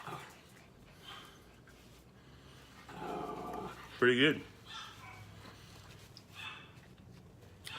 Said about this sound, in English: that's the dogs asking for some